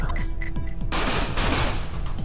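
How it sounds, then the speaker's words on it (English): A missile launched in the space combat game Everspace, a sudden loud rushing burst that cuts in partway through and roars on steadily over rapid rattling weapon fire. "Okay, that was the missile."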